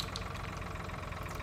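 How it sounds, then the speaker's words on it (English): Tractor engine in Farming Simulator 2013, a steady, low idling drone with a slightly knocking mechanical pulse, heard alone at moderate volume. "Let's do some freestyling tractor driving."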